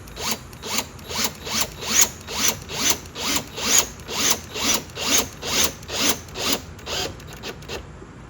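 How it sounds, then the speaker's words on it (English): A power tool drives screws into a pine guitar body, giving a close, even train of about sixteen rasping whirs, each swelling and fading in a steady rhythm with no talk. "I'm going to use a power tool"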